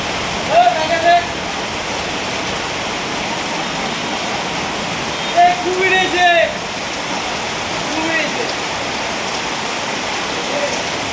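Heavy rain pours in Nageshwari with water running along the road, a loud, unbroken roaring hiss, while a few brief voices or calls rise over it now and then.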